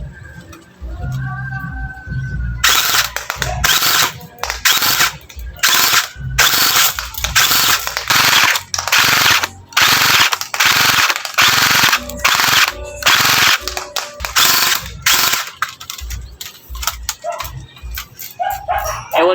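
A CYMA AK47 airsoft electric gun converted from a gel blaster fires on full auto in loud, rapid bursts with short pauses between strings, mechanical rattling and clatter up close.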